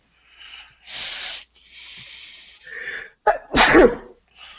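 A few breathy inhales build up to a single sharp, loud sneeze near the end, followed by a brief exhale.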